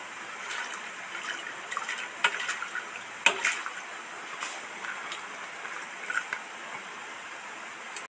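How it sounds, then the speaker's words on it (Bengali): Urad dal being washed by hand in water, a soft continuous trickle and slosh with scattered small clicks and splashes of grains rubbed in a bowl, fairly quiet and close. "এই ডালটা ভালো করে কচলে কচলে ধুয়ে নেব।"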